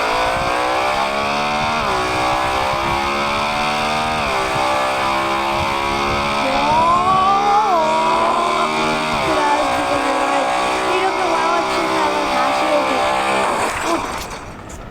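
A motorbike engine in the Traffic Rider mobile game revs continuously and loudly with repeated gear-shift dips in pitch. It climbs again after each shift and stays close and dominant until it cuts off near the end.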